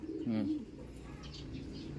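Racing pigeons kept for derby competition give a soft, low coo close by, a single throaty phrase over faint background murmur.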